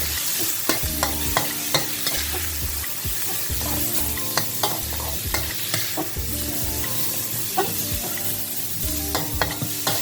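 Pork and garlic stir-frying in a pan for Thai pad see ew, with steady loud sizzling and repeated scraping and clanking of a spatula against the pan throughout, and no talking.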